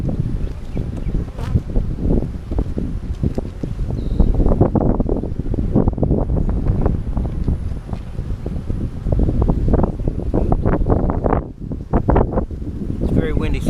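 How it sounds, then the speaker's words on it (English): Strong outdoor wind buffets the microphone in gusty low roars beside open beehives, with bees buzzing around and occasional voices under the noise. "It's very windy"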